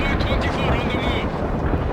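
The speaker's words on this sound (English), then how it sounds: "Mi-24 going in at full speed." A Mi-24 attack helicopter in the World in Conflict video game flies in at full speed, producing a dense, steady roar of engine and rushing air that stays loud and even throughout.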